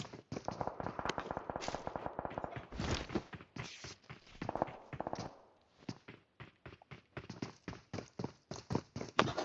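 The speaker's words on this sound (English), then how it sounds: "You hear footsteps. Is that you guys or?" Rapid footsteps run in the video game PUBG Mobile, a dense, quick patter of crisp steps that pauses briefly and then resumes, fairly close and clear with no talk.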